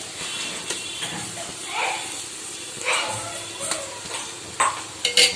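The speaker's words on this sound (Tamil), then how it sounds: "இது கூட நம்ம இஞ்சி பூண்டு பேஸ்ட் சேர்த்திடலாம்" Ginger garlic paste sautés in a pan with onions and chilli for chicken biryani, giving a steady hiss with a few louder scraping stirs spread through the clip.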